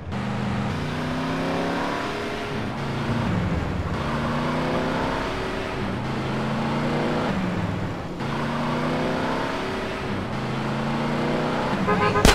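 Peugeot 206 car in GTA San Andreas accelerating hard, the engine climbing in pitch through repeated gear shifts with a brief dip between each, loud and close throughout.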